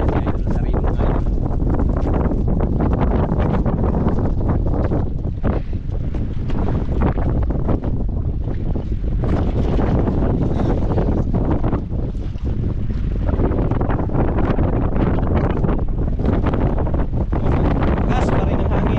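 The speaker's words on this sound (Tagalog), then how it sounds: "Kasi mahangin." Strong wind roars steadily and continuously, buffeting the microphone with heavy low rumble throughout.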